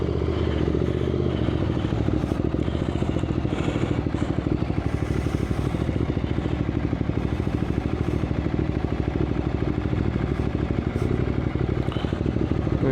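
A Ducati Multistrada 1200 V2 ridden in sports mode, its engine droning steadily beneath constant wind rumble, close and continuous from the rider's position.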